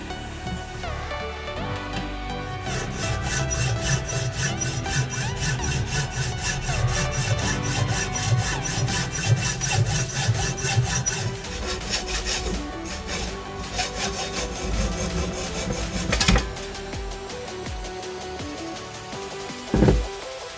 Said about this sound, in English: get a neater, straighter cut with a hacksaw